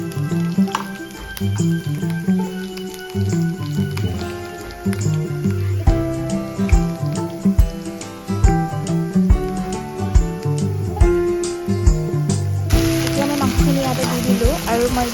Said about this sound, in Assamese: এতিয়া মই পিঁয়াজ আৰু জলকীয়াখিনি অলপ ভাজি ল'ম।